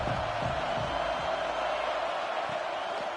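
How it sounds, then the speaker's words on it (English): Stadium crowd roar in the NCAA 26 college football video game, a steady, dense wash of distant crowd noise that holds evenly throughout with no clear cheers or spikes. "This crowd ready to make its presence known."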